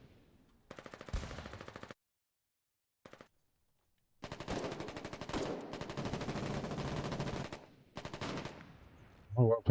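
Machine-gun fire in a war video game comes in rapid bursts: one long burst, a short pair of shots, then sustained firing, all close and steady, with a voice speaking briefly at the end.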